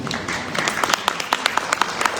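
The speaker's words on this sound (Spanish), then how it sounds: "un aplauso a los de 4, por favor" Church audience applauding parents of four children, scattered clapping with distinct sharp claps standing out over a murmuring crowd.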